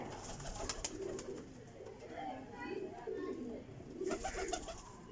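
Pigeons in a loft cooing softly in repeated low murmurs, faint and near, with someone talking over them and a brief flutter of wings.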